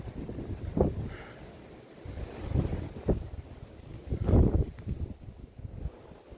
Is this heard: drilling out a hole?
no